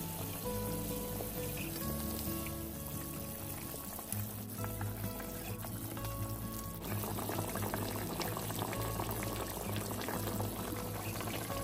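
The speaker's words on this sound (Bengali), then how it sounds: "এবার এটা ভালো করে ফুটে উঠেছে, এর মধ্যে এখন আস্তে আস্তে একটা করে মাছ ঢেলে দিতে হবে।" Pabda fish curry with jujube bubbles at a steady boil in a pan, a continuous, fairly loud roiling that holds throughout with no voices.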